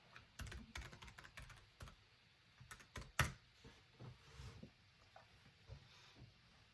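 Rapid, irregular clatter of keys as a password is typed on a computer keyboard, close and fairly quiet, with brief bursts and one sharper keystroke, no voices.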